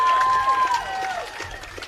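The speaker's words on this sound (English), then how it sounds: "Let's give this South squad another round of applause." Crowd applauding a South 8U softball all-star squad at a Tuscarawas County doubleheader, a steady wash of clapping and cheering throughout, with some voices mixed in.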